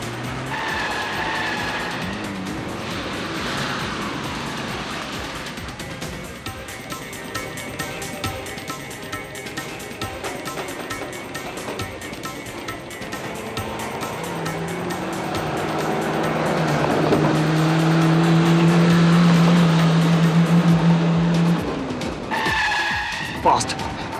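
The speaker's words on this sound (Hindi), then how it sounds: "चलाओ, जल्दी चलाओ गाड़ी।" A car speeds hard through a chase on a Hindi crime drama, its tires squealing loudly in a sustained screech that builds toward the end, with tense voices talking over the engine noise.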